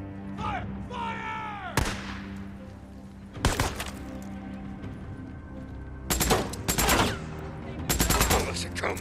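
Gunfire from the Days Gone video game: bursts of loud, close shots come in clusters separated by short pauses, mixed with shouted voices and other game sounds.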